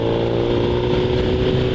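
Kawasaki Z1000 motorcycle engine droning steadily while the bike is ridden through corners, a continuous loud hum with wind rush and no talking.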